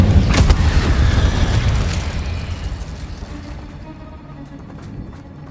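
Incendio fire spell blast in the video game Hogwarts Legacy, a loud booming burst up front that rolls into a roaring, crackling tail and gradually fades over several seconds.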